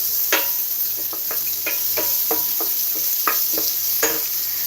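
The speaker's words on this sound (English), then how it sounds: "A bit of a stir." Vegetables being stirred in a sizzling pan for a Chinese-style turkey escallop dish, with steady frying hiss under a series of sharp scraping and clacking strokes from the utensil, close and fairly loud, no talking.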